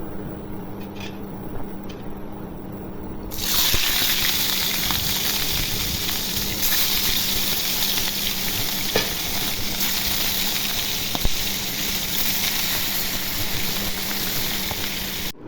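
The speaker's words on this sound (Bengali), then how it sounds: "তেল গরম হয়ে গেছে, এখন মাছগুলি ভেজে নিব।" Pieces of rohu fish seasoned with turmeric and salt go into hot oil and sizzle steadily and loudly after a quieter start, with a continuous crackling fry and occasional sharper pops throughout.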